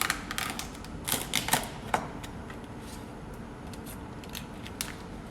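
A knife cracks through the shell of a cooked lobster in a quick cluster of sharp crunching clicks, followed by fainter scattered snaps, all soft and close.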